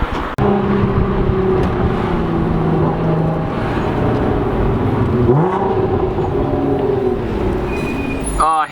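An Audi B8 S4 rolls past with a steady engine drone and a brief rising rev midway, fairly close and loud, with faint voices in the background.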